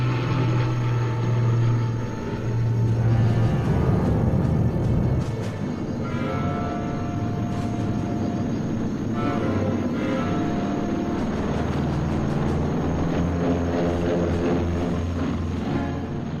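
C-47 aircraft towing gliders take off, a dense, sustained roar of droning piston engines with rising and falling tonal hum, steady and fairly loud throughout.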